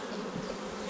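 Honey bees swarm-buzz around an open beehive during a super box addition, a dense steady drone filling the whole moment, loud and close with no talk.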